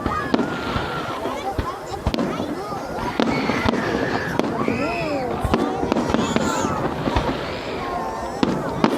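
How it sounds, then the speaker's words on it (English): Fireworks bursting on New Year's Eve near a beach, with repeated sharp cracks and booming pops spread across the sky alongside whistling rockets, with people talking and cheering throughout. "Someone's child's enjoying the fireworks."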